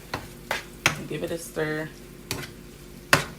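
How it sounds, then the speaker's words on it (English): A spoon stirs a pot of food seasoned with lemon pepper and black pepper, with several sharp knocks against the pot over a soft sizzle. A brief murmur is heard in between. "Then I'm gonna give it a stir."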